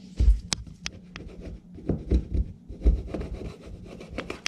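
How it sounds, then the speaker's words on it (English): A plastic wallpaper tool scrapes dirt off a wooden baseboard in short rubbing strokes with occasional sharp taps, close by and moderately loud, with no voices. "So this is plastic, so it won't scratch the wood if you're careful."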